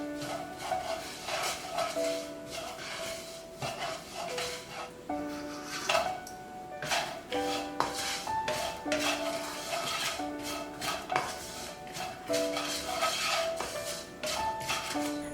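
Fried ingredients, including fried dried sprouts, are stirred and combined in a pan, making steady clattering and scraping with frequent utensil knocks, close and continuous.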